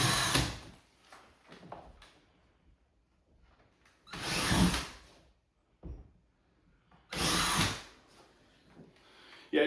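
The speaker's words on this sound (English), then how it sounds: "Okay, now we got the right size drill bit. So we'll just go back through these holes." A power drill bores back through pilot holes in a bathroom wall for an LED mirror install, three loud close bursts of whirring with short quieter runs and pauses between them.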